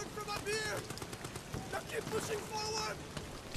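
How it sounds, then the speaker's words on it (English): Gunfire cracks out in the horror video game Amnesia: The Bunker, a few sharp shots mixed with game noise while a voice talks over it. "somebody's shooting at him"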